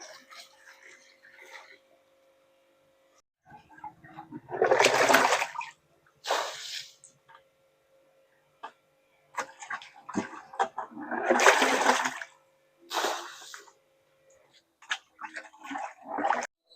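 Water splashing and pouring in bursts while a cattle drinking tank is cleaned and refilled in a village, with quieter gaps between pours and faint background sounds.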